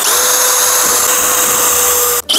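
Power drill whirring steadily at high speed as it bores pilot holes and drives screws into furniture panels for a cabinet box, loud and close for about two seconds, then briefly cutting out near the end.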